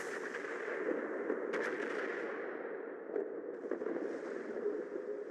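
Naval guns from Royal Navy cruisers in a video game: a steady rumbling battle roar with a few sharp cannon reports scattered over it, dense and continuous throughout.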